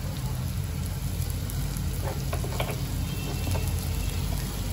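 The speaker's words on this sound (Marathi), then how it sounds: "आता हे सर्व मसाले मी चांगले ह्याच्या बरोबर मिक्स करून घेते" Spices with asafoetida are stirred and fried in a pan for a dried bombil chutney, giving a soft continuous sizzle over a low hum, with light scraping taps from the spoon.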